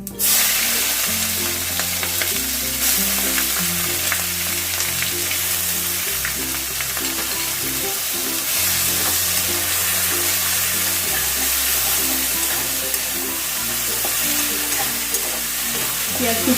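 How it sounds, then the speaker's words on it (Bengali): Chopped onions fry and sizzle steadily in a pan, with occasional stirring scrapes and a low repeating hum in the background, close and continuous with no talk. "পেঁয়াজ কুচিগুলোকে আমি দু তিন মিনিটের মতন ভেজে নিলাম"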